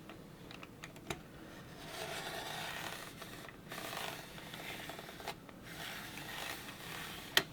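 A circle cutter scrapes and rasps through paper in quiet, uneven strokes, with faint rubbing and a couple of sharp little clicks, close up and soft.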